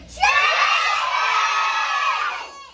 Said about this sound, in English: Yell my name. Say it as loud as you can.